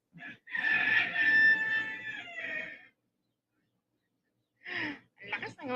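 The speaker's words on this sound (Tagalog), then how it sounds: "Ang lakas ng mga tilaok ng mga manok." Loud, close rooster crowing: a long wavering crow fades out, then after a silent gap several shorter crows and clucky calls burst in, one overlapping another.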